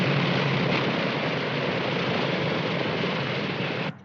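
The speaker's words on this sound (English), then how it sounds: "Flight 211 is now arriving from Las Vegas" An airliner arrives at an airport, giving a steady, loud, broad engine roar that holds unbroken for about four seconds before cutting off abruptly.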